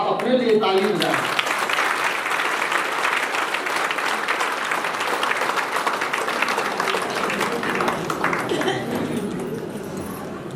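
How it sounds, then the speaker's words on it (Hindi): Audience applause at a spiritual gathering, with a brief stretch of voice at the start giving way to loud, dense, sustained clapping from a large crowd that slowly tapers toward the end. "आप अपने लिए ताली बजाएं।"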